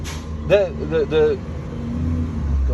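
A truck circles nearby with a low, steady engine rumble that swells toward the end, while someone talks over it.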